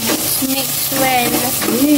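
Sautéed onion and tomato are stirred in a frying pan, giving a steady close sizzle with scraping stir strokes, while a voice murmurs over the cooking.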